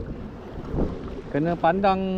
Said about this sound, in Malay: Tapi memang angin padu betul